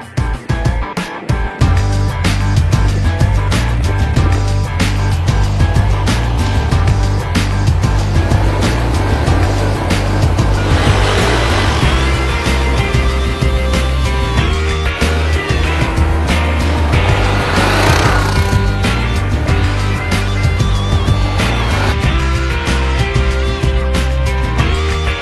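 A quad bike's engine runs steadily with a loud, smooth and even drone, held throughout as it drives.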